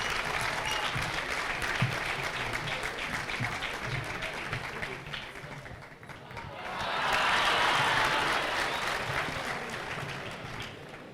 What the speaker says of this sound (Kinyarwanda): Amashyi menshi cyane twakire meya wacu.